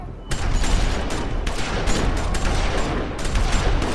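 Dense, loud bursts of gunfire from The Walking Dead video game, a continuous fusillade of overlapping shots and rapid volleys that barely pauses over four seconds.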